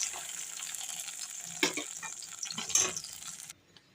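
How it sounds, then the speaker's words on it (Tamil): Sliced eggplant (brinjal) sizzles in oil in a pan while being stirred for a Tamil garlic curry, a steady frying hiss broken by a couple of sharp scraping clatters before cutting off. "கத்திரிக்காய் வதக்கி எடுத்துக்கிட்டேன்."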